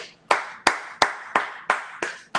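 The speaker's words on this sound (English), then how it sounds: "round of applause" Seven sharp single hand claps at a steady, slightly slow rhythm, close and distinct, with short decays and near silence between.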